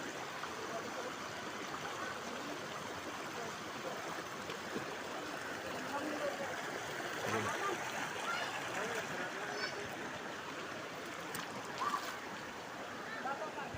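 Steady broadband rush of river water flowing through lowlands, continuous and fairly close, with occasional small splashes and no clear talk over it.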